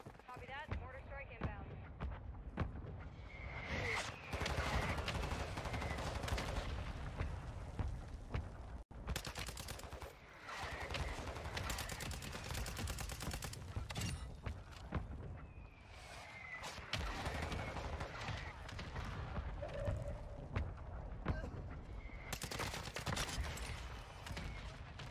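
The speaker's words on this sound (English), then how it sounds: "Mortar support incoming." Call of Duty battle with bursts of rapid gunfire and heavy mortar strike explosions, dense and loud throughout, with voices talking over the shooting.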